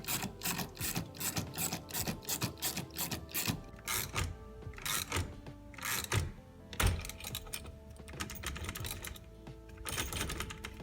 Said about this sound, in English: Now with the steering wheel puller on, we just tighten this bolt down and it'll take the steering wheel right off.